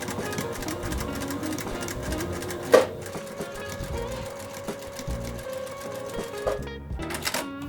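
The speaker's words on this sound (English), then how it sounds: "All I have to do now is sew directly across that penciled line there on both of them." A sewing machine stitches steadily across a penciled line on quilt fabric strips, a continuous rapid mechanical whir with a sharp click partway through, close and alone without speech.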